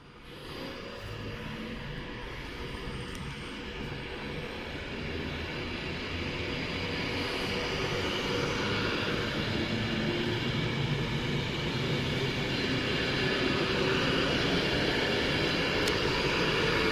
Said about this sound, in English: this train is now ready to depart